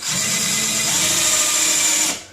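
A power drill whines steadily at high speed drilling copper, close and loud, for about two seconds before cutting off abruptly.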